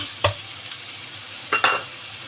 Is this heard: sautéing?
yes